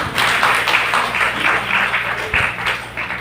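An audience at a spiritual talk breaks into steady applause, many hands clapping together in a loud, dense burst that carries on without voices.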